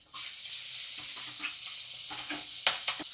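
Onions sizzling and frying in oil in a pan that already held dried fish, with stirring scrapes; a steady close hiss with no talk.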